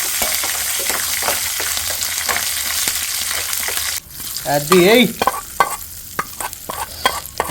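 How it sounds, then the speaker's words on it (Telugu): Spices for tempering drop into hot oil for a cucumber chutney (dosakaya pachadi), and a steady fry with stirring bursts into loud, close sizzling with sharp crackles and pops. A voice speaks briefly. "నేనైతే వెయిటింగ్ పచ్చళ్ళకి మంచి తాలింపు కూడా వేసేద్దామండి"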